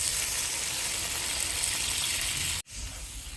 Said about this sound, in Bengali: কাঁচামরিচ অনেকগুলো করে ভেজে নিলাম, জল দিয়ে দিব